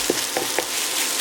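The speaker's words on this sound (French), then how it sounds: "Et là, on mélange." Mushrooms fry in a pan with chermoula stirred through them: a steady broadband sizzle runs throughout, broken by three short scraping knocks of the utensil near the start, close and moderately loud with no voices.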